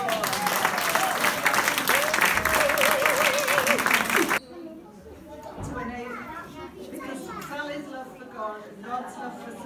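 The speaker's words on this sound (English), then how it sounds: "Let's give them a huge round of applause." Loud crowd applause at a community gathering on a housing estate, thick clapping for about four seconds that cuts off abruptly, followed by quieter chatter and children's voices in the room.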